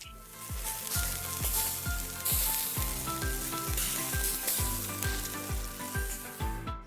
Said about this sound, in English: So the veg is in the frying pan